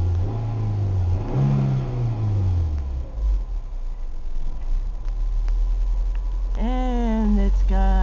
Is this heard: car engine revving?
yes